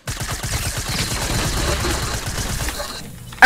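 Rapid SMG bursts from a video game, a dense rattle of automatic fire repeating for about three seconds, loud and close, ending in a sudden sharp burst.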